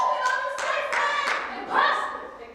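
An audience at a rehearsal claps in several short bursts, a sharp flurry of hand claps roughly every third of a second with a voice and light cheering mixed in.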